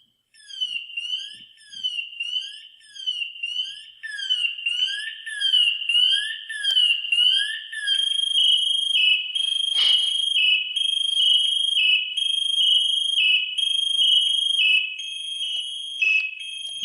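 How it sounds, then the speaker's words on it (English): A firefighter's PASS alarm sounds loud and shrill, first as rapid repeating electronic chirps, then settling into a continuous piercing high tone, heard on its own. "That is a firefighter's pass alarm."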